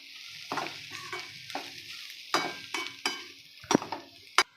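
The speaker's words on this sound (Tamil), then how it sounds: "ரவையும் அது கூட வதக்கணும்" Semolina being sautéed with onions in a pan, a series of distinct spatula scrapes and stirs at irregular intervals over a soft background hiss, close up with no talk.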